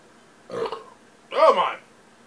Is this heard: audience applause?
no